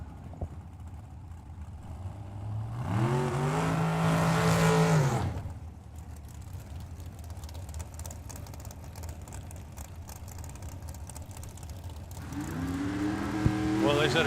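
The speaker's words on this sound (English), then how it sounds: "here comes Team Downing with their Dodge Power Dragster" A Dodge Power dragster race car roars past at a drag strip, a loud rising engine howl that swells and fades, then another engine builds near the end, with a commentator's voice in between.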